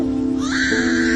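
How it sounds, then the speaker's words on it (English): A lyrebird gives a single close, loud call, a steady tonal cry that rises and sharpens midway into a shrill bright note, heard alone. "Lyrebird."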